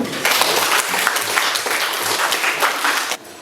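Students applaud together in a classroom, a dense burst of clapping lasting about three seconds before stopping abruptly.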